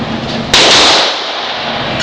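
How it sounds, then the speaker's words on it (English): A single sharp 9mm pistol shot cracks out at an outdoor shooting range, loud and close, with a brief ringing decay into steady background noise. "And Karen shooting away a 9."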